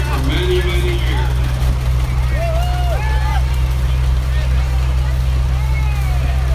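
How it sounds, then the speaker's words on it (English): A 1950 John Deere A tractor rolls along in an antique tractor parade, its low, steady engine drone loud and close throughout, with faint crowd and announcer voices over it. "That's Joe Barshinger's 1950 John Deere A."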